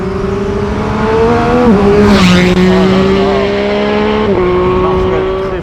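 Triumph Speed Triple 1050 RS motorcycle engine pulling hard under acceleration, a loud steady drone that rises in pitch with short dips at gear changes, close up against heavy wind noise.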